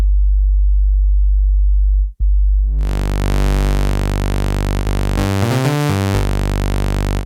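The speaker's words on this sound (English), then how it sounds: "sounds like a saw wave to me." Saw wave from a Modal Electronics Cobalt 8X synthesizer, starting as a low steady drone, then a bright sustained buzzing tone with pitch sweeps and shifting notes, loud and alone.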